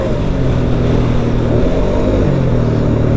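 A Polaris Sportsman 570 Trail Edition ATV engine pulls hard under acceleration, a loud, steady low-pitched drone with a gritty rumble that holds throughout, heard close up from the rider's position.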